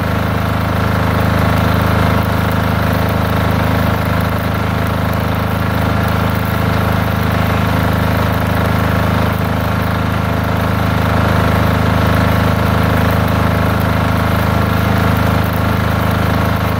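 A Multipro generator set, used to power a welding machine, runs steadily at a constant droning engine hum, loud and close, with no speech.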